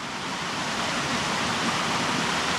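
Steady broadband rush of creek water flowing over rocks in the Blue Ridge, a constant close wash with no voices.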